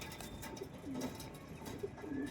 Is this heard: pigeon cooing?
yes